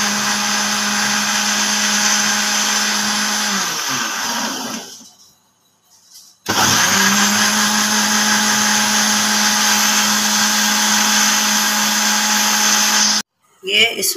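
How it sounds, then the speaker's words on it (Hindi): A kitchen mixer grinder purees cooled raw mangoes with a loud, steady whine, cutting out briefly midway, starting again for a long run, then stopping near the end. "अब इसको हम मिक्सर में डाल के इसको हम बिल्कुल स्मूथ बिल्कुल पीस लेंगे"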